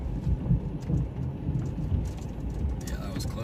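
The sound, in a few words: thunder from a nearby lightning strike in a supercell storm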